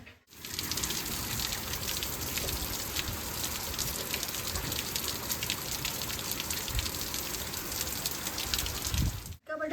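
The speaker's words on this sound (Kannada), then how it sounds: "ನಿಮಗೆ ಮಳೆ ಸೌಂಡ್ ಕೇಳಿಸ್ತಿದೆ ಅನಿಸುತ್ತೆ" Steady rain falling nearby, a continuous dense patter with occasional heavier drops, loud and unbroken for nearly the whole stretch before stopping abruptly.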